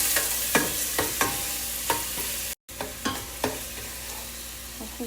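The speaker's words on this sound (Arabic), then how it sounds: "حطيت هنا الزيت، راح أنزل عليه البصل" Onions fry in hot oil with a constant close sizzle, broken by repeated scraping stirs about every half second and a momentary drop to silence midway.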